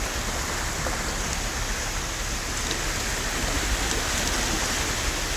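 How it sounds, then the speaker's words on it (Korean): Ocean waves washing onto Hakampo beach near Taean, a steady, loud, broadband wash with no clear breaks, heard up close and without voices. "파도 소리 근데 진짜 좋네요"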